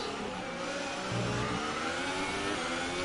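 Formula 1 car engine in an F1 racing video game at the French Grand Prix: a loud, continuous high-revving whine that rises in pitch about midway, with no talking.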